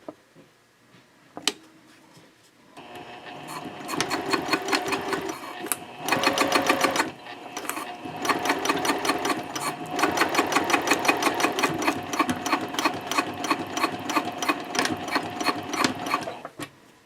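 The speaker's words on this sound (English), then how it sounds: "Then you can flip it over and go ahead and sew the other side." A sewing machine stitches Cordura fabric for a trifold wallet, running in steady close bursts with brief pauses between runs, its needle rattling rhythmically and loud.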